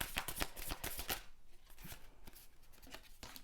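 Tarot cards shuffled by hand, a quick run of soft rapid riffling flutters, then scattered lighter card slaps, quiet and close.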